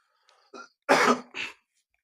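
A few short coughs from someone with a cold, close and fairly quiet, with a throaty quality, in a brief pause with no talking.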